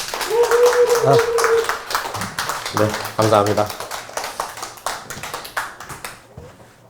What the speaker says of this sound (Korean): 정지석 선생님을 큰 박수로 모시겠습니다.